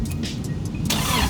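A car engine cranking after an engine swap, done in a parking lot: about a second of loud, close starter whirring with rhythmic churning pulses, swelling slightly at the end.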